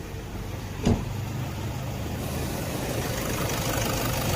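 A car engine idles smoothly and quietly after a Caltex oil change, a steady low hum that holds even throughout, with one brief thump near the start.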